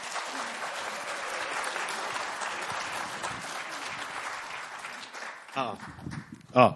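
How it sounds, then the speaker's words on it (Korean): Applause from an audience at a seminar fills the room, dense steady clapping that tapers off after about five seconds into a few scattered claps and brief handling noises. "박수 부탁드립니다."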